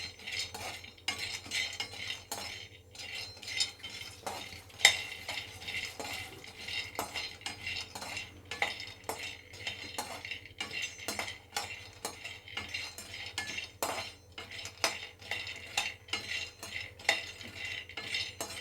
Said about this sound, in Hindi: मैं ऐसे ही भून रही हूँ बादाम को, क्योंकि घर में मेरे बच्चे घी नहीं खाते हैं।